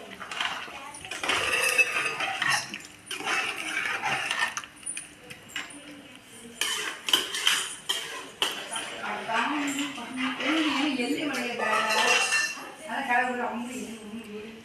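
A pot of intestine and blood curry stirred with a metal spoon, clinking and scraping against the pot in bursts, with a person talking over parts of it.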